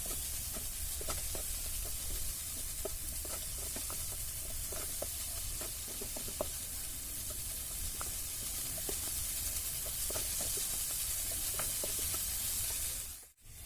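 Onions sauté in a pan with a steady, even sizzle and hiss, broken by faint scattered pops and stirring clicks, and a brief handling thump at the very end.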